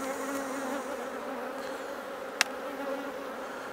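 Honey bees buzz around the frames of an open hive in a steady, close, continuous drone, broken once by a single sharp click.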